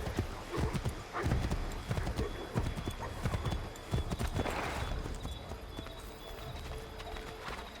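Horse hooves clip-clop in a brisk rhythm in Assassin's Creed 3, close and clear, easing off toward the end, with a brief whinny and voices talking over the gallop.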